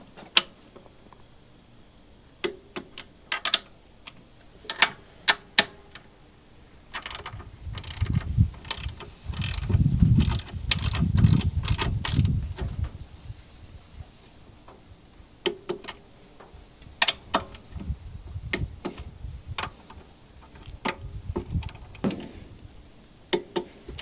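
A clicker-type torque wrench tightening on an 11kW Generac standby generator during valve work, with bursts of ratcheting clicks and sharp ticks spread across the stretch, plus a denser stretch of handling noise in the middle, close up and without talk.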